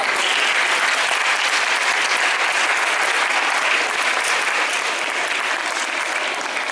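Sustained, dense applause from an audience at a school awards ceremony, steady and loud throughout with no pauses.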